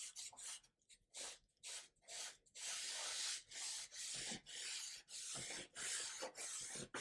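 Polish rubbed by hand along the rusty blade of an old French Revolution-era sword, a close, loud scrubbing in repeated strokes, short bursts early on, then a long continuous pass and steady rhythmic back-and-forth rubs.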